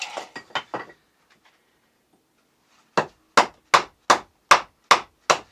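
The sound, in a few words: battoning wood with a Canadian Tire Outbound paracord knife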